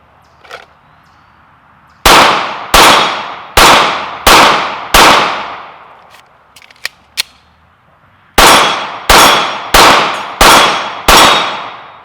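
Glock 19 Gen 5 pistol fired outdoors at a steel target, two bursts of five evenly spaced loud sharp shots, each ringing off with a metallic clang and echo, with small clicks between bursts and no speech.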